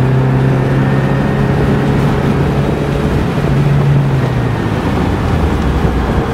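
Ferrari 308 GTS on the move, giving a loud, steady engine drone with a low humming tone and wind rush throughout, with no talking.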